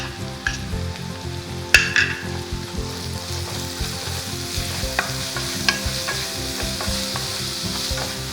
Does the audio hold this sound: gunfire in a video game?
no